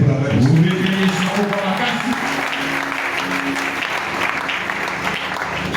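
Applause from a church congregation at an evangelistic service, a dense, steady clapping wash from many hands that stays loud throughout, with voices and a sung or spoken line mixed in early on.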